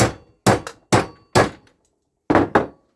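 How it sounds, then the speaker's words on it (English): Hammer blows seal a joint on a can muffler fitted to a lawnmower exhaust: six sharp, loud metallic strikes, a quick burst of three and then two more, each ringing briefly into silence. "Hammer in just in case."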